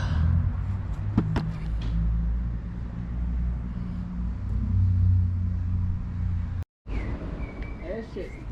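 Cars idle and rumble nearby at a car show, a steady low engine drone with a brief door-like knock, under people talking, followed by a sudden cut to quieter ambience.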